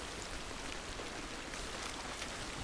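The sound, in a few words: heavy rain in video game Hunt: Showdown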